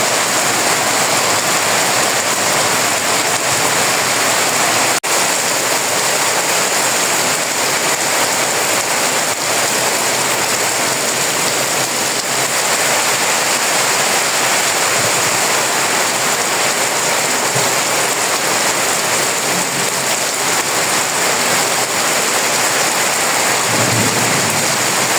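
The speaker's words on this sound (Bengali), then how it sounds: "এমনিতেই বৃষ্টি, তারপর আবার ঝড় আসে।" Heavy rain and a thunderstorm roar steadily and loudly, with a few sharp thunder cracks breaking through the dense downpour and no voices.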